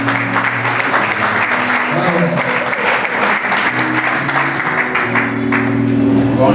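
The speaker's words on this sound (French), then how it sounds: "Applaudissez très fort pendant qu'il s'avance." Sustained, loud applause from an audience at a conference in Kinshasa, a dense steady wash of clapping lasting throughout with a faint murmur of voices beneath.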